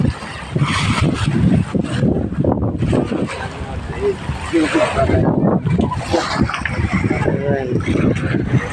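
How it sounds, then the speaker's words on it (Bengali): Strong wind blows across a riverbank with choppy waves, making heavy buffeting gusts on the microphone and a rough watery wash underneath while people talk throughout. "প্রচুর বাতাসে নদীর প্রচুর ঢেউ"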